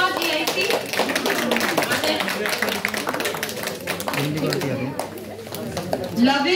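Audience at a school poetry competition clapping to welcome child participants, scattered hand claps mixed with children's chatter and an adult voice speaking over them, fairly close and steady throughout.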